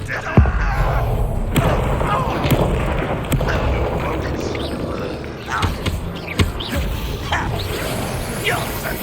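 A Bombarda spell explosion in the video game Hogwarts Legacy lands as a deep boom among thumps and whooshes of combat, with character voices talking over the busy fight sounds.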